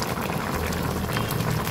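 Bullet tuna paksiw with coconut milk simmering in a covered pot, a close, steady bubbling and hissing boil that stays even in loudness throughout, with no voices.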